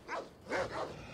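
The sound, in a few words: dogs barking in video game Assassin's Creed Odyssey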